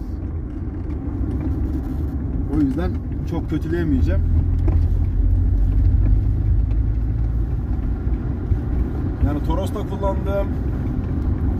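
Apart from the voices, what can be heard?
Hyundai Excel 1.5 GLS road noise inside cabin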